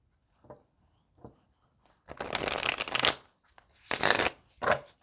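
A deck of tarot cards is shuffled close by: a few soft taps, then two vigorous riffling bursts and a short final flick, with no talking.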